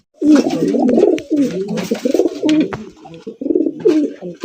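Several large pigeons, including a sapchila, coo loudly and close by in repeated throaty bursts with short pauses, with no talking over them.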